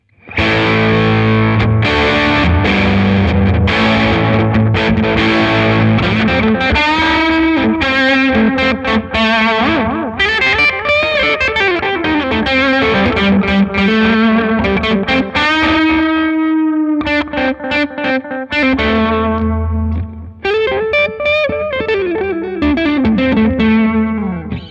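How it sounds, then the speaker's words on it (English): An electric guitar on its bridge humbucker plays through a Vox amplifier with heavy distortion, loud sustained chords and melodic lines ringing out alone with no talking, pausing briefly near the end before continuing. "this is what it sounds like with some distortion on my humbucker on the bridge"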